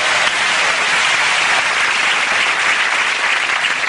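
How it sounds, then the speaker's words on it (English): Studio audience applause on a TV show, a dense, loud, steady wash of clapping from many hands that fills the whole stretch without pause. "very rarely would a clip deserve a round of applause"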